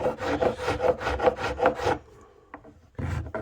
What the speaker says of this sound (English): this is the right coarseness because it's taking it off way better than my finer file was